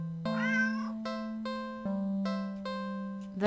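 A black stray cat meows in a video game, a single drawn-out meow near the start followed by soft repeating musical tones in a steady pattern, without any talking.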